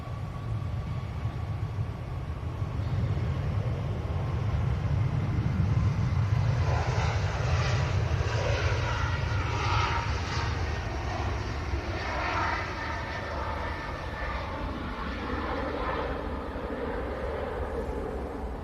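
A TUI airliner departing Manchester Airport for Faro roars steadily with deep, loud engine rumble and a broadband jet wash that holds throughout, with no talk.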